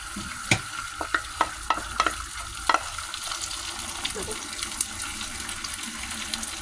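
An egg frying in a hot pan, with a few sharp clicks and scrapes at the start and then a continuous hissing sizzle at moderate volume, without any voices.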